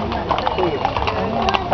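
Horse hooves clip-clopping in a rose festival parade in Szeged-Szőreg, a busy outdoor street scene with steady crowd chatter and voices over the hoofbeats throughout.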